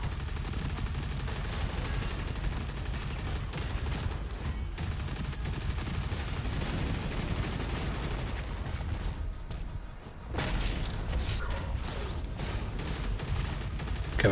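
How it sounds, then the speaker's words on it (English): Rapid, continuous heavy gunfire from the plasma gun in the dark-fantasy shooter Doom: The Dark Ages, dense and loud throughout with mechanical clatter and a brief dip in the barrage near the end before it resumes. "Why does the plasma gun have such a heavy recoil?"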